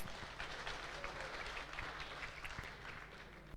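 A temple congregation at a Sunday Love Feast gathering applauds steadily, a dense, even wash of clapping from a sizeable crowd that holds at a constant level for the whole stretch without any voices.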